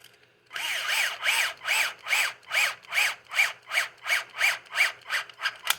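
A power drill drives screws into plastic RC car differential parts, its motor whirring in about a dozen short, rhythmic bursts as the trigger is tapped, loud and close with no talking.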